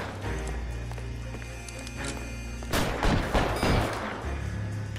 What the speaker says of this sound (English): Why are they shooting?